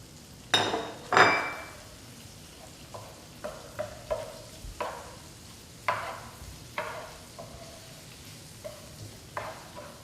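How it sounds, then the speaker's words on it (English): A pound of shrimp is tossed with green onion tops and lemon zest in a pan, giving a low sizzle with a couple of louder scrapes early on, then scattered clinks and taps of a utensil against the pan. "And then I've been tossing the pound of shrimp."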